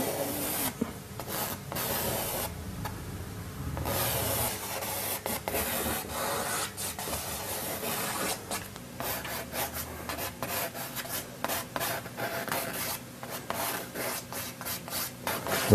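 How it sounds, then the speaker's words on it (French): Charcoal sketches on a canvas in close, continuous scratchy strokes, broken by short pauses and sharp tapping contacts, with no voices. "je vais dessiner l'esquisse au fusain sur la toile"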